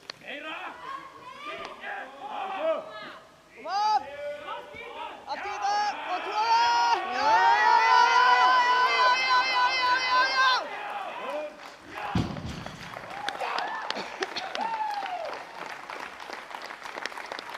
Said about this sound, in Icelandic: Koma áhorfendur, hvetjum hann áfram